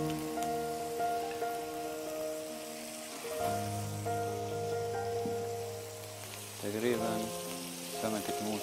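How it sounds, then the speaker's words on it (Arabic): Shrimp frying in a pan, a steady close crackling sizzle with occasional stirring, partly under a sustained tonal hum and other kitchen sounds, no talk. "نرجع هان تاني نقلي الجمبري"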